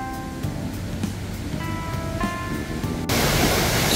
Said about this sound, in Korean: 심은사 쪽에서 내려오는 계곡의 물입니다. 엄청나게 크게 내려옵니다.